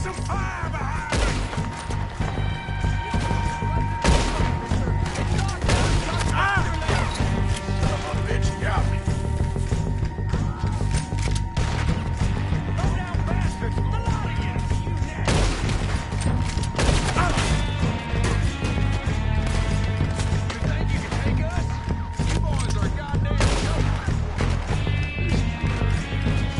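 Sustained gunfire shootout in Red Dead Redemption 2 as dense, continuous clatter of shots and impacts under a thick, constant game soundtrack, with voices shouting across the fight.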